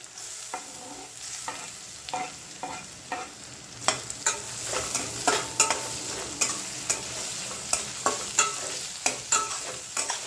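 Chopped onion frying and sizzling in a pan for a bajra vadi vegetable dish, with a steady hiss broken by repeated sharp scraping stirs, close and fairly loud, no talking.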